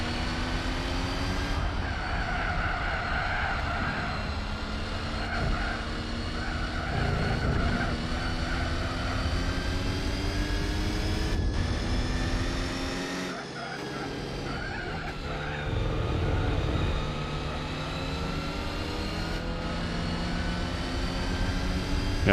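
A Jaguar E-Type's engine drones and revs in a Gran Turismo 4 Grand Prix race, its tone rising and falling through gear changes, with a brief dip near the middle.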